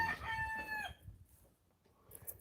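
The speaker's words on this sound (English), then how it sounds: "I know how much y'all love the sounds of these chickens." A rooster crows once, loud and close, its drawn-out call fading after about a second into quieter background rustle.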